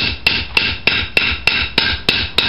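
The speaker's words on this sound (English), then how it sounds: "And just with a little hammer," A small hammer taps a rivet through a hole in metal, nine evenly spaced sharp knocks about a third of a second apart, loud and close with a short ring after each strike.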